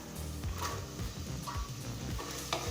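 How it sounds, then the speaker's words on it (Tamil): Tomato, carrot, beans and green peas sautéed together in a pan for coconut milk rice, giving a steady close sizzle with soft scraping stirs throughout. "எல்லாத்தையும் சேர்த்து ஒரு 2 நிமிஷம் வரைக்கும் நல்லா வதக்கிக்கலாம்."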